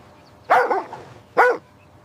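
A dog barks twice, two sharp, close barks about a second apart, loud against a quiet background.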